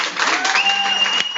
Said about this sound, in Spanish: Si te da la gana, aplaude.